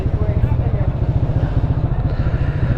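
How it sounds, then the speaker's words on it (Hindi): Motorcycle engine running steadily while riding on a road in Himachal Pradesh, a fairly loud, even low thumping chug that holds throughout the short stretch, with a voice talking over it. "देखो भाई बिल्कुल कितनी जोर दाम से चल रही है बाइक।"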